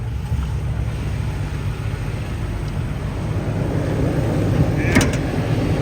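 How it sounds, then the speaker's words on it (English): A 2020 Toyota Tacoma with 38k miles idles with its hood open, giving a steady low engine rumble up close, with a brief higher clink near the end. "here is the engine compartment. All right, the engine is running."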